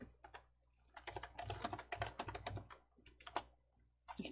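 Rapid keystrokes on a computer keyboard as names are entered into a coding program, a dense run of clicky taps in irregular bursts with brief pauses, close and fairly quiet, no voices.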